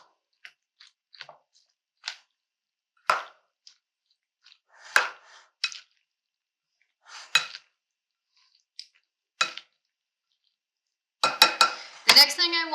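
Macaroni salad being stirred with vinegar in a bowl, sporadic wet squishes and utensil clinks against the dish, separated by short silences, ending in a quick flurry of mixing.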